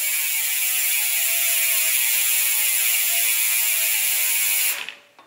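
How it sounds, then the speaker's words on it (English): A fast, steady buzzing ratchet from an Industry Nine Hydra rear hub freewheeling on a spinning mountain bike wheel, held loud and even for several seconds before being abruptly stopped. "I am running the Industry 9 Hydra hubs. These things are just amazing. They sound amazing."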